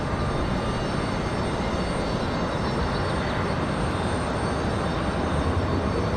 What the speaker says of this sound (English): Republic Airways 4518 off to LaGuardia. Taxiing out there, they're in front of the hard stand.